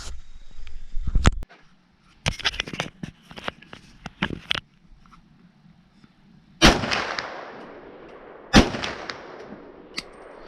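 M1 Carbine rifle fired outdoors: a quick string of loud sharp shots, then two heavier single reports with ringing echoes trailing off after each.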